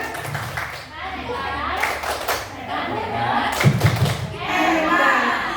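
Schoolchildren in a classroom clap out a patterned cheer, with bursts of hand claps and thumps mixed with children's voices and chatter.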